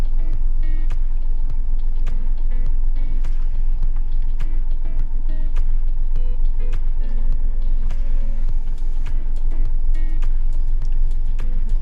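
A car drives steadily with a constant engine hum and road rumble, punctuated by a rapid series of sharp ticking clicks that could be an indicator.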